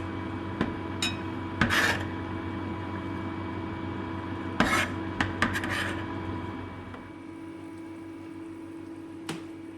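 Kitchen prep for kottu with ingredients cut and chopped on a board, heard as sparse knife knocks and scraping rubs at close range over a steady background hum, with no voices.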